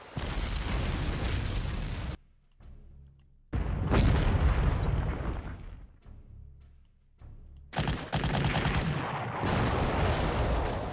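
Rocket artillery firing in the Panzer Corps strategy game, heavy roaring launches and booming blasts in three long, loud bursts separated by near-silent gaps.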